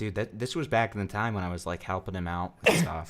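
A single sharp sneeze bursts out near the end, loud and close, right after steady conversational talk from one speaker.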